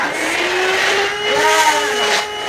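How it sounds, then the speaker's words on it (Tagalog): A cordless Vax vacuum cleaner runs steadily with a close, high motor whine and airy rush, its pitch wavering slightly as it works. "wireless na yung nakuha kong vacuum ngayon"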